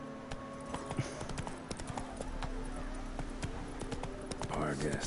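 Roach, a horse in The Witcher 3, galloping with rapid steady hoofbeats under game music and ambience, with a brief whinny near the end.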